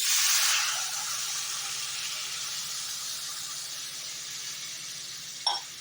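Water poured into a simmering fish curry sets off a loud burst of hissing steam that settles into a softer, steady hiss, with a single small clatter near the end.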